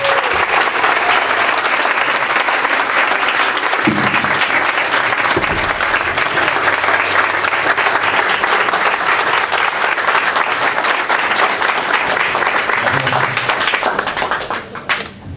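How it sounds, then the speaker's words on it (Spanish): Sustained, loud audience applause fills a hall at the Fonoteca Nacional in Mexico, steady dense clapping continuing for about fifteen seconds before thinning out at the end. "Un aplauso"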